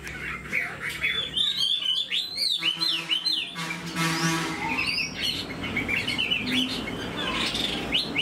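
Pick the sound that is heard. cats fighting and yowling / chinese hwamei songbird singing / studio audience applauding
chinese hwamei songbird singing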